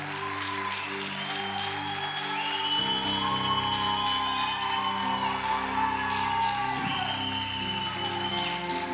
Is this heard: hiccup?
no